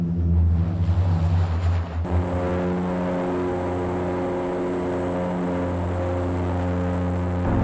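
Military variant of the BAe Jetstream turboprop at the Royal International Air Tattoo, RAF Fairford, its engines giving a loud, steady droning hum with layered tones that holds throughout.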